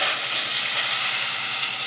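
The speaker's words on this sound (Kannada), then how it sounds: "ನೆಕ್ಸ್ಟ್ 2 ಈರುಳ್ಳಿ ಫ್ರೈ ಮಾಡ್ತಾ ಇದ್ದೇನೆ" Two onions frying in a pan for tomato biryani, giving a loud, steady, close hiss of sizzling oil that holds without a break.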